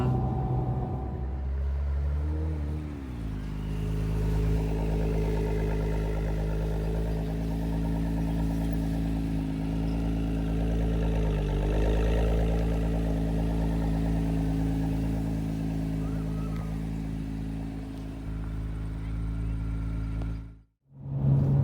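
Acura NSX sports car being driven hard on a road, a loud, steady engine drone with a brief dip near the start as it shifts, then sustained close rumble before cutting out near the end.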